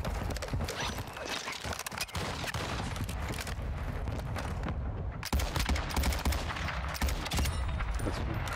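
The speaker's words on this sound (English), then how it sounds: "Requested fire mission, target bomb. Copy. Mortar strike inbound now." Mortar strike explosions in Call of Duty DMZ, a series of loud, sharp blasts and cracking impacts in quick succession, close and dense, with a heavy thump about two-thirds through.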